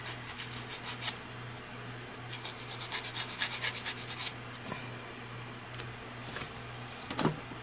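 A nail file rubs and scrapes across fingernails during a gel tip manicure, with rapid rhythmic strokes in bursts, close and fairly soft over a low steady hum.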